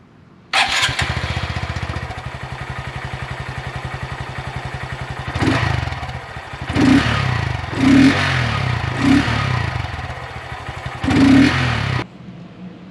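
A Honda Grom motorcycle on its stock exhaust starts and idles with a steady putter, then gets four or five short throttle blips before shutting off; it is close and there is no talk.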